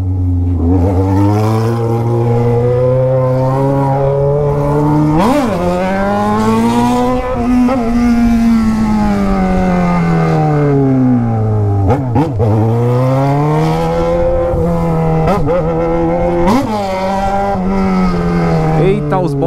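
A Yamaha XJ6 motorcycle engine roars close by, its pitch rising and falling repeatedly through gear changes and throttle blips, with wind rush throughout.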